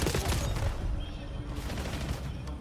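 A dense burst of automatic gunfire rattles loud and close throughout a Call of Duty esports match, rapid shots layered into continuous chatter.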